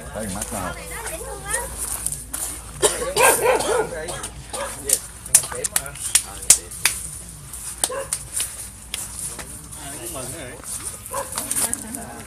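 A dog barks several times at a large orchid garden in Thailand, with sharp yips and bow-wows mixed into ongoing speech and outdoor background noise.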